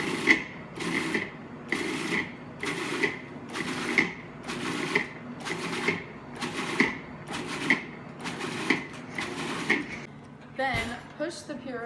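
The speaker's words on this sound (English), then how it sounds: "add raspberries to a food processor. Then, pulse until it becomes a thick sauce." A food processor pulses raspberries into a thick sauce: about eleven short, regular whirring bursts close together, each rising and stopping sharply, followed by a brief rattle of the machine at the end.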